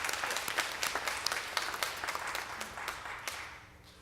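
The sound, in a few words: congregation applause for the media team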